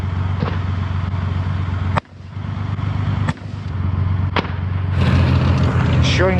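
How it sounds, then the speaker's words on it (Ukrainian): An infantry fighting vehicle at a military training range fires an automatic grenade launcher from its weapon module, sharp loud reports cracking out about once a second over a steady engine rumble, with brief voices near the end. "БМП стріляла з автоматичного гранатомета."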